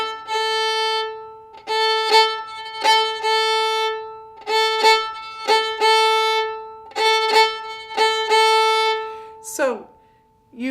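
Fiddle bowing in a repeating rhythmic pattern, with strong accented up bows and a soft, nearly hidden down bow between them, played close and clear with no talking.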